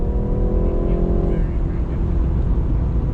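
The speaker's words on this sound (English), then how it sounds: "We're in a tunnel doing some pulls with the other G30s." A BMW G20 330i accelerates hard inside a tunnel, its loud engine drone rising at first, then settling into a steady, echoing roar that fills the whole short stretch.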